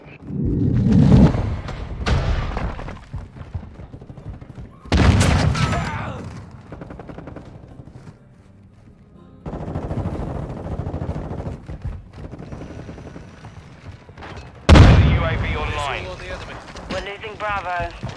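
Rifle fire from a Lachmann-556 on the El Asilo map in a shooter video game, loud bursts coming in separated volleys with quieter gaps of game noise between them.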